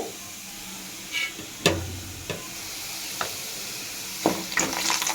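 A pan of food frying quietly on the stove, a low soft sizzle broken by a handful of sharp clicks and scrapes from stirring that grow a little busier toward the end.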